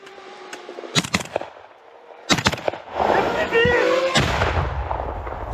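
Artillery fire on a front line booms in several loud, separate blasts with short gaps between them, and a voice is heard briefly among the later rumbling.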